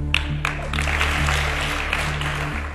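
Applause from an audience at a live visual-memory colour show, a steady, dense patter of many hands clapping that fills the whole stretch at moderate loudness over a low steady hum.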